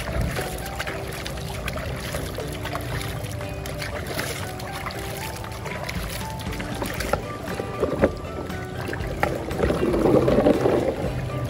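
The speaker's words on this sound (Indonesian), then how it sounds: "Siram pakai air teman-teman." Water poured over a toy sand dump truck still full of sand, a continuous near splashing and rushing that swells louder toward the end.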